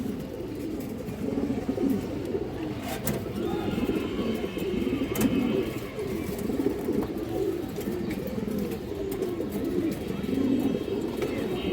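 Green-necked pigeons and other fancy breeds coo in a low, continuous rolling murmur, several birds overlapping close by, with faint background noise.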